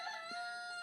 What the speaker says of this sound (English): George the Rooster's going